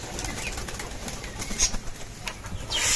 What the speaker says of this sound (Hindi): अब कबूतरों की बारी आ गई